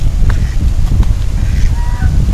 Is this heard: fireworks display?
no